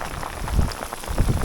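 Heavy rain pours down on the Cape Wrath Trail in Scotland, a dense, steady hiss and patter with thicker drops thudding close by.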